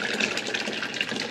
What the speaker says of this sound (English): We have all the juice strained out. We pour in this pot